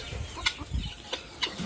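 Chickens being fed bread cluck softly close by, a few short scattered clucks over quiet background rustling.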